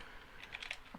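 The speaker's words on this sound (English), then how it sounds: "I'm still typing in Discord to share the stream link" Typing on a computer keyboard, a quick, soft patter of keystrokes close by over a steady low background hum, with no voice.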